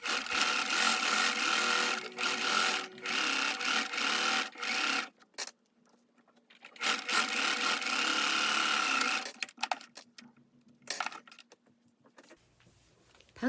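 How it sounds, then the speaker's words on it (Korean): A sewing machine stitches the front facing of a blouse in several long, loud bursts of rapid mechanical whirring, separated by brief pauses with quiet handling noises. "지금 봉제하는 것은 앞 안단을 봉제하는 모습입니다"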